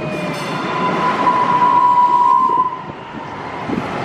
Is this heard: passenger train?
yes